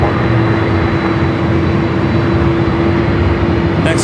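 A jet airliner on arrival at Los Angeles LAX, heard from a hotel rooftop near the runway as a loud, steady broadband roar with a sustained engine tone throughout.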